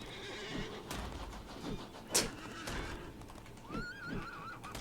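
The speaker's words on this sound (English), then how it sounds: "it still makes a sound whenever you collide your horse with the train" A horse whinnies and neighs with clip-clop hooves in the Disney Infinity video game, with several short neighs and hoofbeats over steady game background sound and no talking.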